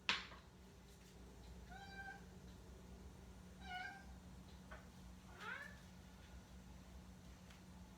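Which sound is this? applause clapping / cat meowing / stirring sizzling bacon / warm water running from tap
cat meowing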